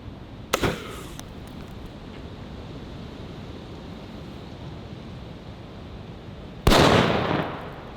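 37mm launcher fired outdoors toward a burn pile: a sharp close boom early on, then steady wind or ambient hiss, and a second loud blast near the end that trails off over about a second.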